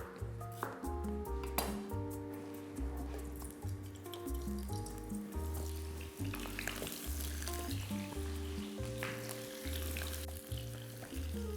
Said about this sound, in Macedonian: Додека кромидот се пржи